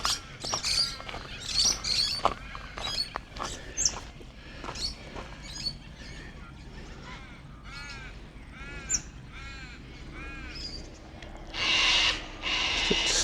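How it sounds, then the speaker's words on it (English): A sulphur-crested cockatoo calls outdoors at the start of autumn, giving loud, harsh screeches among several other bird calls and chirps, with a louder burst near the end. "Actually, it was a sulphur-crested cockatoo."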